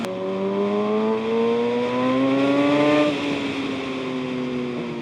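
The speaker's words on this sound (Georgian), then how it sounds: "აი დიდი მანქანა მოდის ფრთხილად." A big vehicle passes on the road near a sport motorcycle, its loud engine drone climbing in pitch and then sliding lower as it goes by midway, with steady road rumble underneath and no voices.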